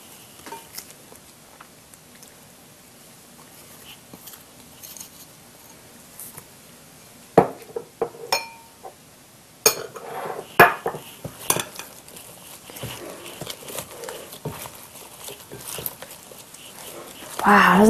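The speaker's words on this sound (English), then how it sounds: "Stir it up. We'll use this mixture to coat our vegetables." A spoon clinks and scrapes against a bowl while stirring a coating mixture for fajita vegetables, with irregular close clatter that grows busier partway through, under speech and occasional dog sounds.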